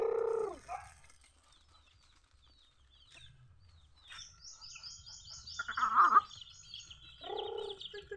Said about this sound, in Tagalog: yan nga pala yung mga ilan nating manok